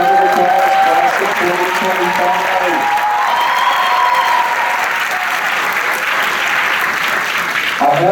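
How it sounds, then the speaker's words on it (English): A graduation audience cheers the high school class of 2025 with loud, sustained applause and crowd noise, while a voice or music sounds over the clapping early on. "Let's give them a special round of applause, class of"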